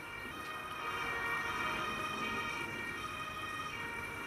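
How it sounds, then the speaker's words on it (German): An ambulance siren in the emergency-service game Emergency HQ wails steadily at moderate volume, a sustained electronic tone with no talk over it. "Der Rettungswagen."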